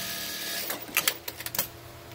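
A Juki DDL-8700 industrial sewing machine runs a short stitch sequence: a quick burst of sharp mechanical clatters and ticks, close and moderately loud, after a brief soft whir.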